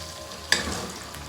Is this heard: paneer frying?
yes